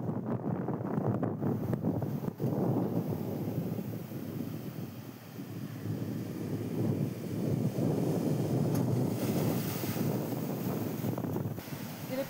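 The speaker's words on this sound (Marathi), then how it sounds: "समुद्राला उधाण आलेलं आहे आणि त्यामुळेच या लाटा गणपतीपुळे मंदिराच्या प्रसाद रांगेपर्यंत पोहोचल्या आहेत" Rough, swollen sea surges against the Ganpatipule temple coast in Ratnagiri during a high-tide storm, giving a continuous loud roar of crashing waves with heavy wind buffeting the microphone.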